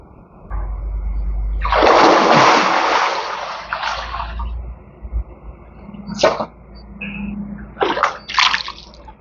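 Water splashing and sloshing as someone climbs in and out on Ambergris Caye, Belize, a loud surge of splashing followed by several shorter, scattered splashes and drips nearby.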